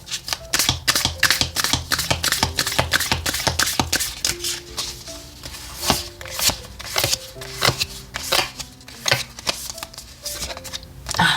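Oracle cards shuffled by hand for a tarot reading, a steady run of crisp riffling slaps and flicks repeating close up for several seconds with no talk.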